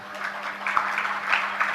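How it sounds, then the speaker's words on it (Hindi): Scattered clapping from an audience at a Jain religious sermon, a moderate steady patter of hands lasting under two seconds with a low hum beneath. "तालियां तो बजा रहे हो।"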